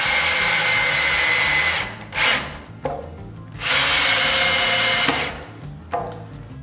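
An Einhell 18 V brushless drill driver on low speed one drives a screw into pine wood, several close, loud whirring bursts with short pauses between them.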